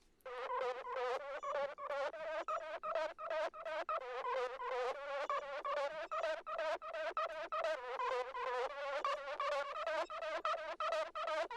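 A resampled, chopped vocal played solo through an EXS-24 sampler, a rapid stuttering stream of short buzzy syllable slices in fast, even rhythm, forming a bridge passage with no other instruments.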